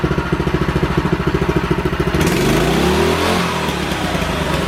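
Predator 212 engine on a mini bike, first a loud pulsing idle close by, then a sudden jump to full throttle, roaring and climbing in pitch as the bike pulls away.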